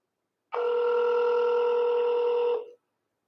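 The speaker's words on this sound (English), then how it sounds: "I want to get him on the phone so I can hear the phone start ringing" A telephone rings once on a scam call, a steady electronic tone lasting about two seconds before cutting off, loud and clear against silence.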